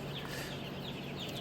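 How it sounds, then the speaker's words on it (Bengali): Chickens in a crowded poultry shed cluck faintly while pecking at feed from small containers, a soft continuous murmur of fowl sounds under steady background noise. "এই যে দেখেন মুরগি খাবার খাইতেছে।"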